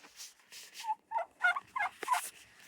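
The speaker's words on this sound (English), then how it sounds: "That's Beauty, the turkey." A farm turkey gobbles in a rapid series of rattling bursts, several quick throaty calls close by in an outdoor yard setting.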